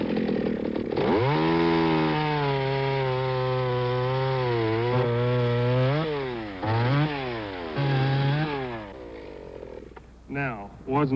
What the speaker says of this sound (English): I'd like you to see what my little steel chainsaw can do.